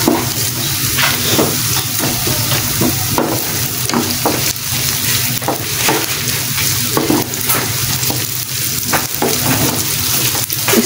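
Garlic and ginger paste frying in ghee in a pan, a steady loud sizzle with frequent stirring scrapes and clicks throughout, no talking.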